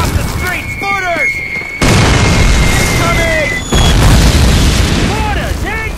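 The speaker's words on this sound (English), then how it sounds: "Mortars incoming!" Mortar shells exploding in a World War II battle in the video game Call of Duty, with a loud, sustained booming roar that swells twice, mixed with whistling and shouted voices.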